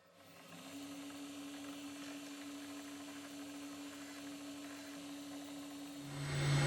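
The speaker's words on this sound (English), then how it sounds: "I'm going to spot both sides and then take a 1/8 drill and drill halfway through with each" A spotting drill and then a 1/8 drill bore into a small engine part, giving a steady, even motor whine that holds throughout and swells slightly at the very end, with no one talking.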